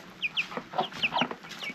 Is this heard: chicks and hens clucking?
yes